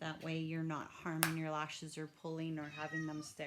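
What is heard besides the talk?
pet cat meowing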